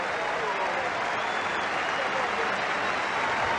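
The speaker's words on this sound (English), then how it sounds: "Here, just some polite applause from the Toronto fans" Polite applause from baseball fans in Toronto, a steady wash of crowd clapping that holds evenly throughout with no break.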